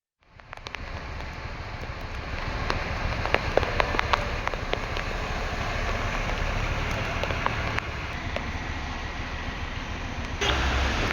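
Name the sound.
heavy rain in Vijayawada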